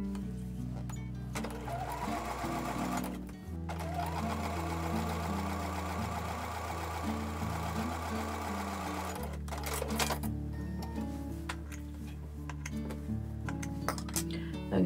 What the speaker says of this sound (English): So I'm going to sew those with a 1/4-inch seam.